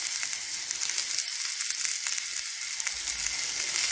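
An onion fries in butter in a pan, giving a loud, continuous close-up sizzle and crackle that holds steady with no talking.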